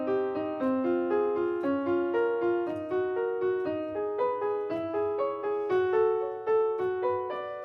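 A cycle of minor triads moves around the circle of fifths, each chord struck in a steady, even pulse about twice a second, with the harmonies ringing out in a continuous, clear progression and no voices.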